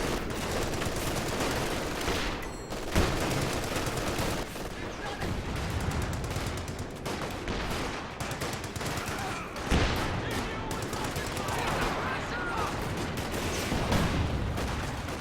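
Continuous wartime din from Company of Heroes 2, with infantry support guns and small arms firing steadily, dense overlapping shots and booms throughout, and a voice talking over it.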